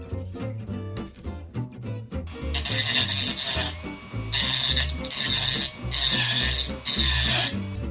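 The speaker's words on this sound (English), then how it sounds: "I'll just use the Dremel tool and I'll make it match the pumpkin." A Dremel rotary tool grinds a sand-cast solid metal pumpkin, heard as harsh, close, rasping bursts in several repeated passes after a few seconds of lighter scraping and handling.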